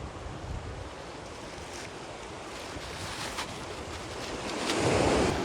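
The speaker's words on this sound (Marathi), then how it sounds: "लाटा बघू शकता तुम्ही बघा" Sea waves on a beach heard from a boat: a steady wash of surf with wind noise, swelling into a louder surge near the end, with no voices.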